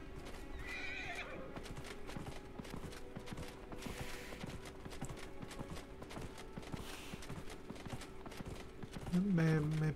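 A horse in Dragon Age Inquisition gallops with rapid, steady clip-clop hoofbeats throughout, ending in a loud whinnying neigh near the close.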